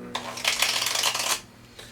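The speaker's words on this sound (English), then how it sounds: "just complete the shuffle like here" A deck of playing cards is riffle shuffled up close, with one fast burst of fluttering clicks for about a second, then a short final snap.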